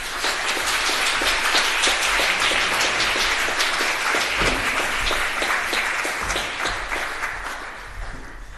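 An audience at a city press conference for a mayor's adult literacy office breaks into sustained, loud applause of many hands clapping together, steady throughout before thinning slightly toward the end.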